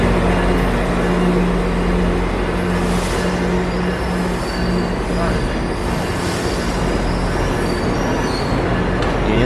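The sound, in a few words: GO Transit train arriving at Union Station, Toronto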